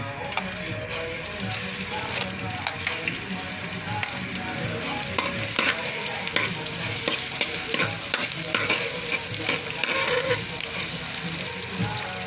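Ginger, chili and garlic sizzle loudly in a hot pan for laing, a steady frying hiss broken by frequent scraping stirs with no voices.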